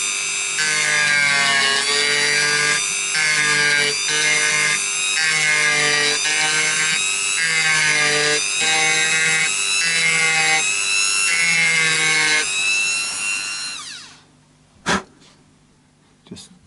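A right-handed guitar nut reused on a left-handed Partscaster Strat is filed by hand, a steady rhythmic rasp repeating for about fourteen seconds over a constant tonal background, then stopping, with two sharp knocks near the end.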